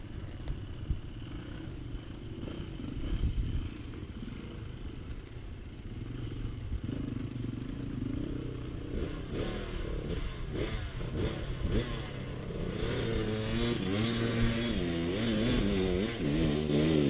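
A motorcycle engine runs close by with a steady rough drone, and throttle blips swell and rise in pitch toward the end.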